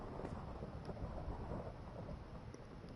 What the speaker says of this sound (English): it definitely sounds like it's thundering outside